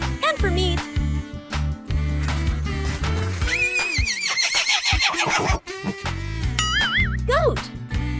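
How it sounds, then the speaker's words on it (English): Loud braying of a young donkey on a farm, harsh rising and falling cries repeating across several seconds over a low throbbing base, with squealing high notes and brief pauses between calls. "Donkey. This is donkey."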